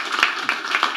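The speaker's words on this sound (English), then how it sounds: "A quick round of applause for Svat for handling" A small workshop audience gives a quick round of applause for a presenter after live coding at a Rails workshop, a few close, sharp claps in loose rhythm.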